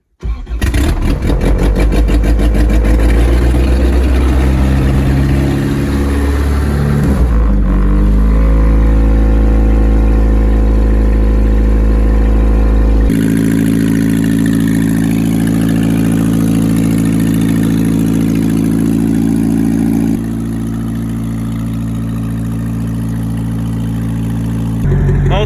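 A four-cylinder car engine roars continuously at high revs during a New Year's burnout challenge, loud and sustained with shifting pitch as the throttle is held and eased.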